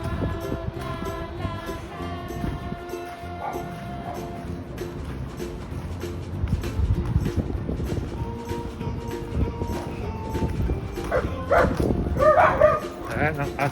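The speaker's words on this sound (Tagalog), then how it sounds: "Ayan ang aso ni si Bella, ayan, dalawa." Two dogs, one named Bella, yip and bark at a house in Highview Haciendas, Magalang, Pampanga. The short barks come in bursts under ongoing talk, with background music throughout.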